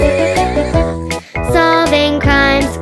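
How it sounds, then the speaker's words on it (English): A cartoon horse neighs in a children's song: a loud, close, drawn-out whinny with wavering pitch, split by a brief break, sitting over bright musical accompaniment. "ride on a white horse."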